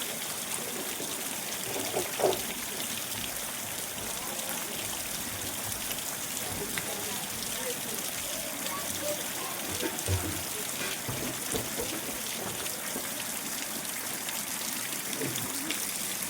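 Unseasonal rain falls steadily in Garajiya village, Palitana taluka, as a constant wash of broadband hiss with a few faint splashes and trickles throughout.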